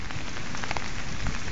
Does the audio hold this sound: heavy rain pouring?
yes